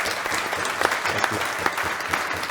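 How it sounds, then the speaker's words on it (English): An audience gives steady, dense applause to former racing driver Derek Warwick at the end of a talk, loud and close with many overlapping claps. "I think he deserves a massive round of applause"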